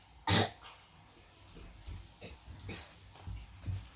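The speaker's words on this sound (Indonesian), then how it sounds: "Coba batuk lagi." A single sharp cough up close from a patient during chest physiotherapy with postural drainage, followed by soft breathing, shuffling and low muffled noises.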